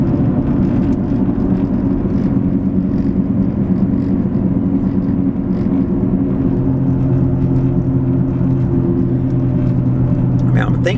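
Tire and road noise inside a moving 2005 Lincoln LS V8 Sport, a loud constant low roar and hum that fills the cabin throughout, with someone speaking over it.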